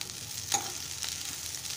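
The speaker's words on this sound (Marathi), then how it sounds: "कापून घेतलेली भेंडी घालूया आणि 2 मिनिटं परतून घेऊया आपण" Cut okra stir-frying in a pan: a steady close sizzle with a brief louder scrape of stirring about halfway through, and no talking.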